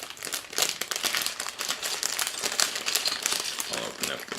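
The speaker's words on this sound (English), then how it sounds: "I'll open up the bag" Plastic bag of Lego pieces for a Star Wars Imperial TIE fighter set being opened, close crinkling and crumpling bursts that come and go irregularly, with a voice talking underneath.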